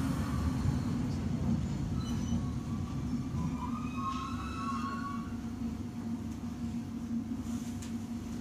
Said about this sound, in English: the next red line train to Airway is now arriving.